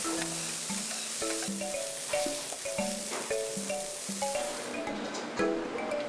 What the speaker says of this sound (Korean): 지글지글 소리 봐요. 더 맛있죠